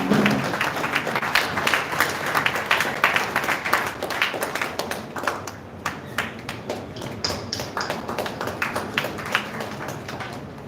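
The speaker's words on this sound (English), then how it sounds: "So give him a big round of applause, ladies and gentlemen." An audience at a college event gives a big round of applause, many hands clapping in a dense, steady wash that thins slightly midway and carries on for several seconds.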